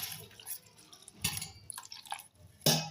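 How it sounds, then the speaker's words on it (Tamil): Water poured into sathu maavu flour in a kitchen to dissolve it, heard as soft drips and splashes in short bursts, with a louder pour near the end. "இப்போ நம்ம இது வந்து தண்ணி ஊற்றி கரைச்சிக்கலாம்."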